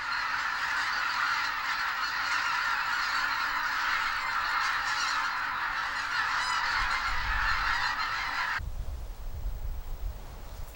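Geese honk loudly and continuously near the Korean demilitarized border line, a dense flock of calls that cuts off abruptly near the end, leaving low wind-like rumble.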